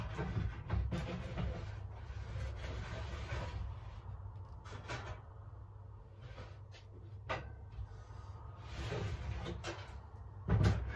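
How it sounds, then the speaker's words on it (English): A heavy small oven door opening at home while fish is prepared for barbecue, heard as scattered close clunks and scrapes over a steady low hum, with a louder knock near the end. "I'm going to be opening my oven."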